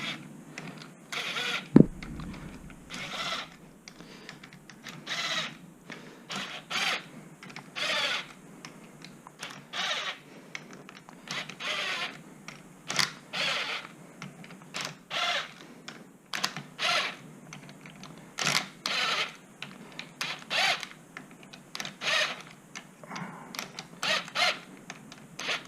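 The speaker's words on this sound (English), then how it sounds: "Then we're going to take our 10mm socket and we'll just wind these in evenly." A hand ratchet turns a 10mm socket to wind in bolts on a Kawasaki H2 supercharged motorcycle engine. Close, quiet bursts of rapid clicking repeat in an uneven rhythm with short pauses between strokes.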